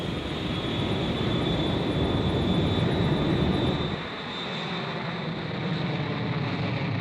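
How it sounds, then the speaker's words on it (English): A Boeing 757 jet takes off with a loud, continuous broadband engine roar that holds steady and then eases slightly to a lower, duller rumble as the aircraft climbs away. "On takeoff, the 757 performed perfectly."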